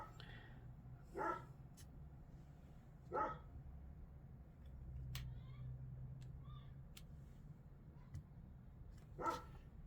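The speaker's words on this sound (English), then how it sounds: "Honestly, that dog is driving me crazy today." A dog barks in three loud, separated bursts at roughly even intervals over a steady low room hum, with faint small clicks in between and no talking.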